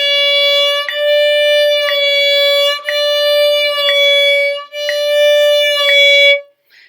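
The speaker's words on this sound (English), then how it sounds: "we're going to start moving the vibrato with quarter notes." Violin tone pulsing with vibrato in steady quarter notes at 60 bpm, six even strokes of a sustained bowed pitch with rich overtones, close and clear, no talk, ending in a brief silence.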